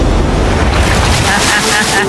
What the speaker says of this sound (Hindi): ये आई बड़ी लहर